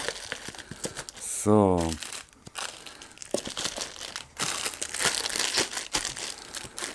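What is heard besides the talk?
crinkling packaging as items are unpacked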